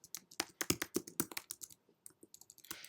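Fingers tap out a short burst of quick, close keystrokes on a computer keyboard, uneven in rhythm, with a few lighter clicks trailing off at the end.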